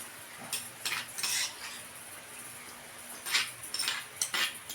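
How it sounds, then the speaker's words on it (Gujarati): Ground green corn stirred into dhokla batter with a spoon; close metallic scrapes and clinks come in bursts against the bowl, separated by quieter pauses. "આપણે મકાઈ પીસી દીધી છે તો આ બેટરમાં નાખી દઈશું"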